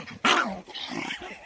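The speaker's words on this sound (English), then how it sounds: "They rescued their dog that got stuck in a hole." A rescued dog, just pulled from a hole it was stuck in, lets out a sudden loud growling bark followed by lower grumbling and whimpering noises, close by, with no talk over it.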